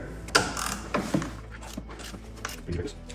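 A ratchet wrench clicks in short bursts as 13mm bolts are loosened from the plastic cowl area of a 2014+ third-generation F-series MINI Cooper, with close mechanical clatter and scraping and a voice speaking in between.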